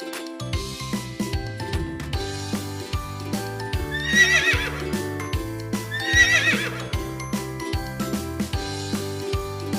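A horse whinnies loudly twice amid a steady, rhythmic clip-clop of hooves, with light jingling of tack and a musical backing throughout.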